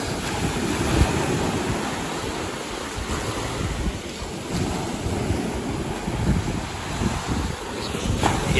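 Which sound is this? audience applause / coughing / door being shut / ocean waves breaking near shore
ocean waves breaking near shore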